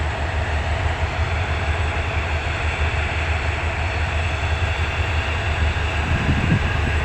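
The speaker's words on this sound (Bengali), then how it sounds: "চট্টগ্রাম অভিমুখী আন্তনগর তৃণনিশীতা এক্সপ্রেস ঢাকা কমলাপুর 5 নম্বর প্ল্যাটফর্মে বসা আছে। লোকোমেটিভ 3030 বিগ বস, অসাধারণ ইঞ্জিন" At Kamalapur station in Dhaka, an intercity express hauled by locomotive 3030 rumbles steadily and loudly, a constant engine drone and rail noise throughout.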